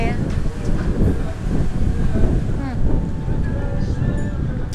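Wind buffets the microphone in a continuous rough roar, with faint whistling tones and muffled sounds underneath.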